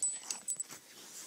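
A pet dog whimpers softly indoors, faint high whines and small yips in a couple of quick bursts within a brief quiet moment, with no talk.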